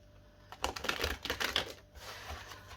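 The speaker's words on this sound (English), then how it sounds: "Let's do a few shuffles" A deck of tarot cards is riffle-shuffled close by, a quick, dense patter of clicking for about a second and a half, fairly quiet.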